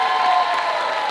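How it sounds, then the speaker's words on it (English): An audience at a university Vietnamese Culture Night claps in a brief, dense burst of applause that holds steady and fills the hall. "Let's give a round of applause for them."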